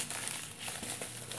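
Plastic packaging from a Walmart delivery is crinkled and crumpled while being pulled open, a steady soft rustling heard close up and at low volume.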